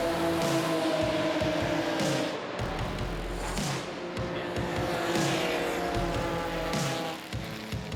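Pre-1969 two-litre Porsche 911 race cars roar past at Spa, engines rising and falling as several cars sweep by in succession, loud and continuous with tire noise.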